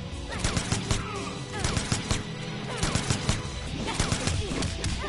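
Rapid bursts of gunfire from the character Jacqui in the Mortal Kombat fighting game, clustered shots over busy game effects and background music.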